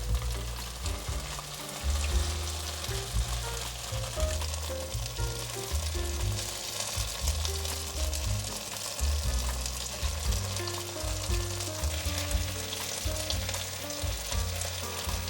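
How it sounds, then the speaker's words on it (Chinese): Tofu and potato pieces fry in a pan, a steady close sizzle and crackle of hot oil with occasional low knocks, no voices. "再继续让它煎"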